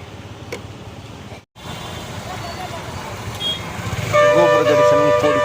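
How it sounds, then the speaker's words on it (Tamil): Busy road traffic outside a crowded Murugan temple in Siruvapuri on a Krithigai festival morning, a steady engine rumble with passing vehicles and a burst of horn toots near the end, under people talking. "இப்போது ட்ராஃபிக் ட்ராஃபிக் வருது"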